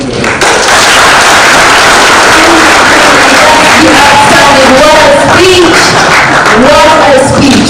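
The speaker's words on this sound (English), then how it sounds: "We can applaud him more." Audience applause after a speech at a panel discussion on the creative economy, loud and sustained, mixed with crowd noise and a few whoops while voices talk over it.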